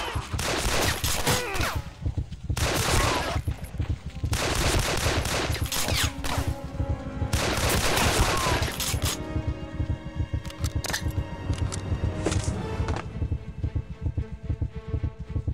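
A chain gun fires in Blade of Agony, long loud bursts of rapid automatic shots in several sustained volleys, with clattering and ringing game sounds filling the gaps between them.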